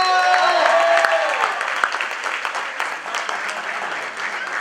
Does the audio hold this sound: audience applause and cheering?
yes